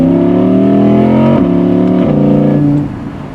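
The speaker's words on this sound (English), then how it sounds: "you hear that grunt come back and forth. You hear the induction noise." A supercar engine revs through a downshift, its deep harmonic grunt rising and dropping in steps alongside a raspy induction whoosh, loud and close, before easing off at the end.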